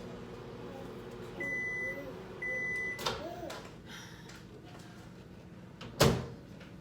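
A microwave is set to heat baby oatmeal for 9 seconds: two clear electronic beeps, then a thud and a sharper clunk near the end, over quiet room background.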